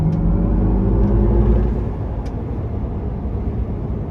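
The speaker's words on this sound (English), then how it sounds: "let's go ahead and take this 2023 Hummer EV pickup out on the road for a test drive" A 2023 GMC Hummer EV Pickup Edition 1 electric truck drives on the road, heard from inside as a steady low road rumble and tire roar with no engine note.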